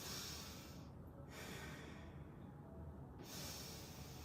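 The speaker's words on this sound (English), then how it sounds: "I'm breathing through my mouth so you can hear me." Slow, airy breaths drawn in and out through the mouth, close and soft, with quiet pauses between them.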